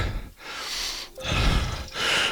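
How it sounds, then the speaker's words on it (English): Heavy breathing close by during a boot camp home fitness class, three long rasping breaths in a row, loud and breathy, separated by short pauses. "I can hear heavy breathing."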